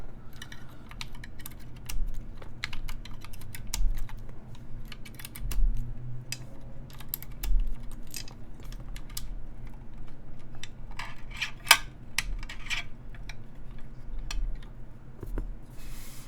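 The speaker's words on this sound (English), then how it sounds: "I guess remove a couple of keycaps in the middle" Keycaps being pulled off a Keycult Zero mechanical keyboard during a build: scattered sharp plastic clicks and light taps, with a few louder snaps, over a low steady background hum.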